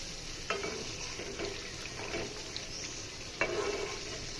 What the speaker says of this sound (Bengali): আর সামান্য তেল দিয়ে হলুদ মরিচ ধনিয়া গুঁড়া দিয়ে আমি কষিয়ে নিচ্ছি।